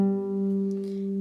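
A guitar plays a song intro with a string skip, heard as a short, clean, ringing note that sustains evenly with soft overtones.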